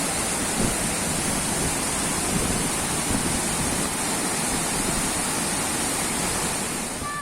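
Tiered waterfall in Meghalaya, India, plunging about 305 metres: a loud, steady, broadband roar of falling water with no breaks, heard close and alone for the whole stretch.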